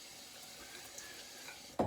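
Faint, steady tap water running to wet the face before a razor shave, ending in a louder splash near the end.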